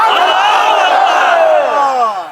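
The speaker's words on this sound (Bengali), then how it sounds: "পুরুষের মতো আওয়াজ দেন নারায় তাকবীর" A large outdoor crowd on a college field roars the Nara-e-Takbir chant in unison at a religious gathering, a loud, sustained mass of voices that swells and then trails off.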